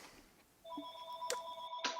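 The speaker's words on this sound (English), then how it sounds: "ring, phone call" A telephone rings with a short electronic ringtone, clear repeating tones that begin abruptly and sound close, with a couple of soft knocks in the background.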